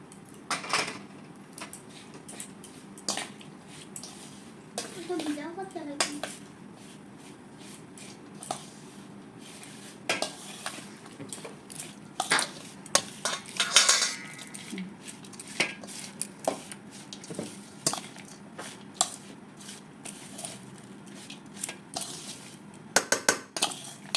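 Raw mango pickle with spices, sugar and masala being mixed in a bowl, irregular clinks, scrapes and taps of a spoon against the dish, sparse and close, with brief faint speech in places.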